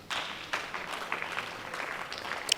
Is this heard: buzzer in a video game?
no